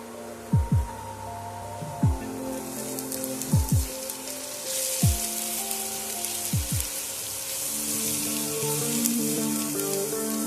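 Ground spices for egg curry (Kashmiri chili, cumin, coriander, turmeric) fry and get stirred in a pan with a soft, steady sizzle under repeated low thudding knocks and a humming drone, close by with no voices.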